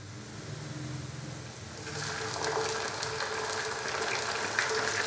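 Onion sizzles with ginger garlic paste in a frying pan for a chicken curry, a soft steady crackle that brightens and grows busier midway, close and fairly quiet with no talking.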